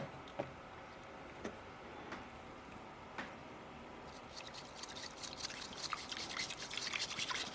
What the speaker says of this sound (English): And then we're going to whisk it.